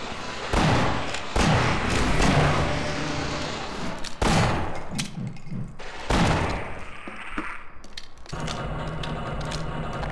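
Gunfire in the video game Half-Life: Source, loud repeated bursts of shots and booming impacts filling the stretch, with brief gaps between volleys.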